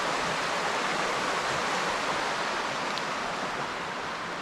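A river beside a Tennessee mountain campground rushes in a steady, broadband hiss of flowing water. It is even and continuous with no voices.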